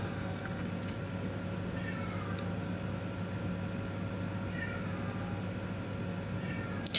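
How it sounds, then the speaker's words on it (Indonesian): A cat meows a few times over a steady low hum, faint and somewhat distant, with brief quiet gaps between calls. "berisik banget sih itu kucing"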